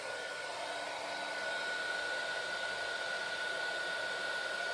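A heat gun melts powder on a media plate, giving a steady, loud blowing roar with a faint high whine that runs unbroken the whole time, close to the microphone.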